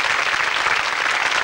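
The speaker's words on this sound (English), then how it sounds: "Give them a great round of applause." A studio audience at a 1982 television game show breaks into steady, full applause, a brief dense wash of clapping that stays even throughout.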